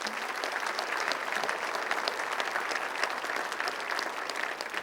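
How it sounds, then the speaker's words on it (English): Steady applause from a civic audience at a city's state-of-the-city address honoring a municipal department, a moderately loud, continuous patter of clapping for about five seconds. "give them a round of applause"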